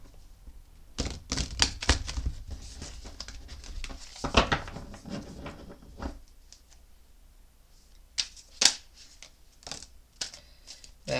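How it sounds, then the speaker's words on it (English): A deck of tarot cards being shuffled by hand, with crisp riffling bursts and soft papery flutters in irregular clusters, close and quiet with pauses between. "Let me give them another shuffle."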